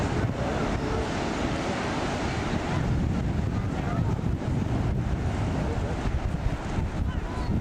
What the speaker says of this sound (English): Very windy day today.